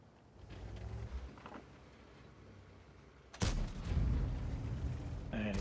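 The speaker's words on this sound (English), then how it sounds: "he just puts another blind shot in there with the hope that he'll connect with that tank" A Leopard 1 tank fires a blind cannon shot in a tank video game, one heavy booming blast partway through followed by a loud rumbling tail over quieter engine and battlefield noise.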